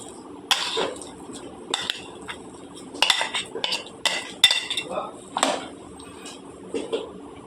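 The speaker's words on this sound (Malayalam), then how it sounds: "ഉപ്പെല്ലാം ചേർത്ത് ഇളക്കി മൂടി വയ്ക്കുന്നു." Metal utensil clinking and scraping against a pot while a coconut curry mixture with pumpkin, cumin, garlic, curry leaves, green chilli and turmeric is stirred, in irregular close taps and scrapes with no talking.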